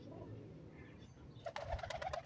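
Pigeons cooing and fluttering close by as they drink water, a low steady murmur that grows busier near the end, with no voices.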